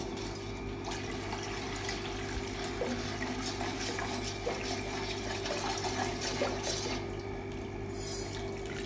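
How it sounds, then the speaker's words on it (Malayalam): Thin third-extract coconut milk poured into a pot of boiling rice and jaggery payasam, a steady close liquid pour and bubbling wash that lasts throughout without speech. "ഇനി അമ്മ ഡയറക്റ്റ് ആയിട്ട് മൂന്നാം പാല് ഒഴിച്ചു കൊടുക്കുക കേട്ടോ"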